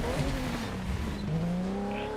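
Racing game car engine in The Crew 2, a steady droning motor with shifting pitch that rises and falls continuously for about two seconds, fairly loud and alone without talk.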